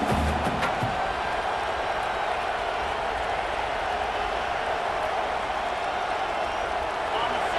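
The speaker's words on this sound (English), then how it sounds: "The roar of the crowd trying to fuel this defense to keep them pinned in their own end." A football stadium crowd roars during a college game between Michigan State and Oregon, a steady, dense wash of distant voices that holds at an even level throughout.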